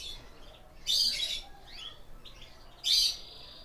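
A female canary sitting on her chicks in the nest gives two short, bright bursts of chirping, close and fairly loud, separated by quieter cheeps over a faint background.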